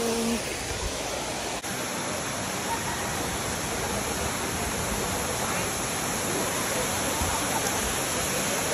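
Mag Aso Falls in Kabankalan City, Negros Occidental, roars as a loud, steady broadband rush of falling water, close and unbroken throughout.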